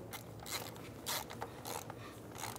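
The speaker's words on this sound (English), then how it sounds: "We're gonna snug down this set screw" A ratchet snugs down a set screw during front right CV axle replacement on a 2007–2011 Toyota Camry, a quiet series of rhythmic clicking bursts at close range.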